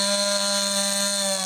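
A chainsaw runs steadily at a constant high buzzing drone, loud and close, during cleanup after flooding, heavy rain and mudslides that buried homes in St. James.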